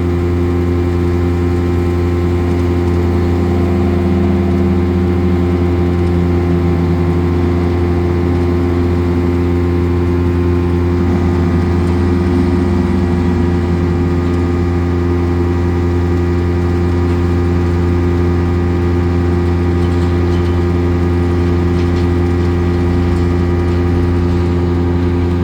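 Tractor engine idling steadily near farm silos while a cart is pulled up during corn and earlage chopping, a constant low rumble with strong harmonic hum throughout, no talking.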